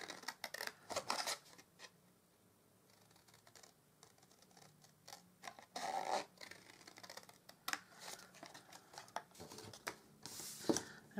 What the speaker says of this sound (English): So you just want to cut that out.